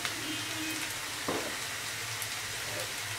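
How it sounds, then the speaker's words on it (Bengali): Onions frying in a pan, a steady close hiss and sizzle of oil with a brief stir partway through. "পেঁয়াজটাকে আমি ভেজে নিব প্রায় 2-3 মিনিটের মতো"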